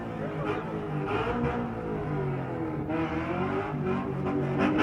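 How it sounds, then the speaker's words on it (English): A race car at a Winton sprint event revs hard and sustained, its engine note holding high with stuttering dips as it bounces off the rev limiter, loud and close throughout. "Bouncing off the rev limiter."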